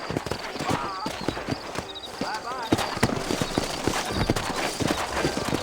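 Horse hooves clip-clop steadily in the Western video game Red Dead Redemption, a close, rhythmic walking beat with a brief whinny, heard under a man's dialogue.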